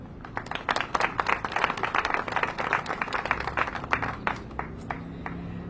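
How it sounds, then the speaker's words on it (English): Outdoor crowd applause at a farmers market ribbon cutting, dense overlapping claps sustained throughout at moderate volume and tapering slightly near the end. "let us give another round of applause for Colleen"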